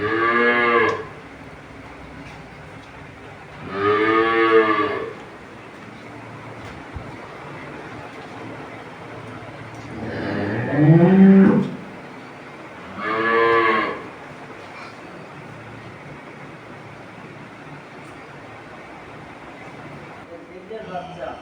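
Holstein Friesian dairy cows moo four separate times, the calls spaced out over a steady low background hum, each a drawn-out bellow of moderate loudness with one deeper, louder moo in the middle.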